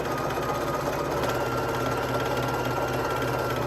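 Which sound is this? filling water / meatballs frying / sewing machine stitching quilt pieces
sewing machine stitching quilt pieces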